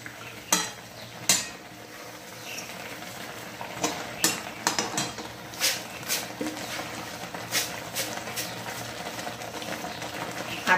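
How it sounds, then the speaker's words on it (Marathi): A spoon stirs upma with moong dal in a pot on a low gas flame, giving soft irregular scrapes and knocks over a quiet background sizzle. "आणि असं हलवत राहायचं"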